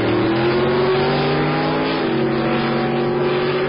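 A drag race car at the 2011 Hot Rod Drag Week in Tulsa, Oklahoma accelerates down the strip, a loud sustained engine roar with rising pitch and a gear change midway, heard alone.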